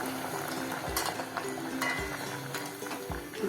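Cabbage vadai fry in hot oil over a medium flame, a faint, steady bubbling sizzle. Soft clinks and thuds recur about once a second.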